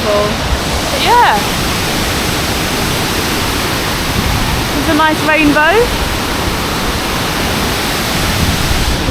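A powerful waterfall at Doi Inthanon roars in a loud, steady wash of spray close by, while a person briefly speaks over it a couple of times.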